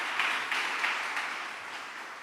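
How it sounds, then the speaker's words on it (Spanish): Church congregation clapping during a sermon, a soft, fairly distant patter of many hands that fades gradually over a couple of seconds. "Dale un aplauso al Señor."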